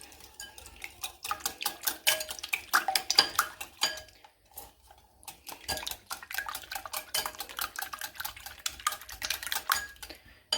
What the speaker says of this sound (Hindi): इनको हम अच्छे से मिक्स कर लेंगे